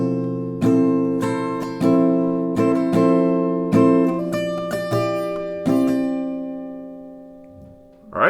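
Acoustic guitar playing chords, a series of clear strummed chords that each ring out and decay, close and alone, ending with a faint rustle.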